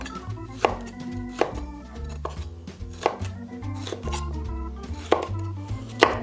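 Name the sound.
chopping red capsicum into small pieces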